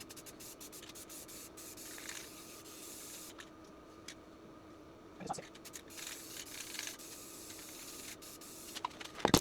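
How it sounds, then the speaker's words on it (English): A spray can hisses black paint onto a post-apocalyptic LARP shield in short, faint bursts with pauses between them, close up, with small scraping and handling noises. "just go with a spray can with black"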